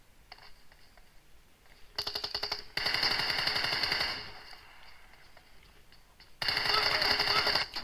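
Automatic gunfire from PUBG Mobile in a one-on-one team deathmatch sounds as rapid rattling bursts, a short one followed by a long sustained volley and another burst near the end, loud and close, with no talk over it.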